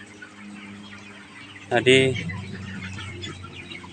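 Stunted chickens in a crowded coop cluck and call, a dense flock chatter with one louder burst near the middle, while someone talks over them.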